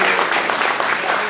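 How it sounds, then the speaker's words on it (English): A short, loud burst of audience applause in a hall during a climate change town hall, a thick wash of many hands clapping at once. "So why don't you give yourself a round of applause for being this year."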